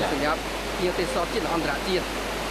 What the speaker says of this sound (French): quand il pleuvait, l'eau de la chute est très abondante